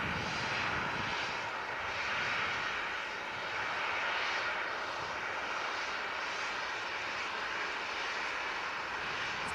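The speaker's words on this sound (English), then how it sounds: "This Ryanair is the Eindhoven bound 73." A Ryanair Boeing 737 bound for Eindhoven sits at Manchester Airport, its jet engines giving a steady, distant broadband roar that holds level with slight swells throughout, with no voices.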